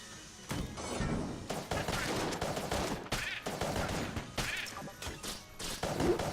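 Rapid bursts of gunfire from the Polaris gun in the roguelike shooter Enter the Gungeon, repeated sharp shots and crashing impacts at a steady loud level with game effects layered underneath.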